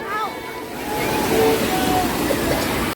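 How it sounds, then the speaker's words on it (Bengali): Sea surf breaking on the beach at Puri, a steady roaring wash of waves that swells louder partway through, mixed with wind buffeting the microphone and voices nearby. "এইরকম জলের স্রোত আর এরকম মানুষের উচ্ছ্বাস যদি পেতে হয় তাহলে আপনাদের আসতে হবে পুরী সমুদ্র সৈকতে"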